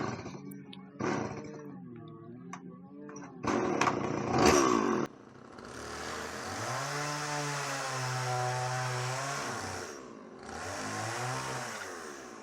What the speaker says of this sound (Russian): И соседи там включили триммер.